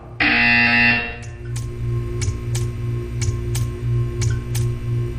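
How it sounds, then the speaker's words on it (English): A loud, harsh electronic buzzer in Portal 2 blares for about a second, then gives way to a steady hum with faint periodic ticks. "You will hear a buzzer."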